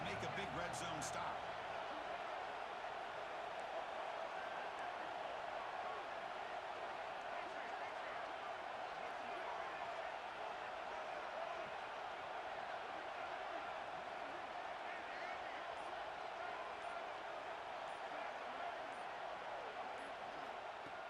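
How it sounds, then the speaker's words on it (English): Steady roar of a stadium crowd in EA Sports College Football 26 as the defense faces a red zone stop, a dense, even wash of noise held at one level throughout, with a sports commentator's voice over it. "here comes the noise. This crowd is trying to inspire this defense to make a big red zone stop."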